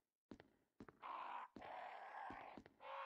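Crows cawing inside the Resident Evil video game, a few harsh drawn-out caws in quick succession, fairly close and alone, with no talking over them.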